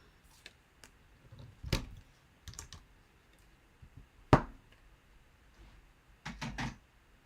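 A Stampin' Up! rubber stamp is pressed down during a papercraft card-making demonstration: a few soft taps and rustles, then one sharp, close knock, followed by a quick cluster of light handling noises.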